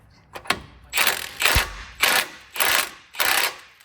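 A ratchet wrench tightens a nut on a truck lift kit in close, rapid bursts, with about six strokes of clicking spaced evenly at roughly half-second intervals.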